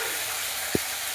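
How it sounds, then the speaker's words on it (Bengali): Fish frying in oil in a pan, a steady close sizzle throughout with a single brief knock partway through. "মাছের তেল ঝাল বানার জন্য এক এক করে হালকাভাবে মাছটা ভেজে আনবো।"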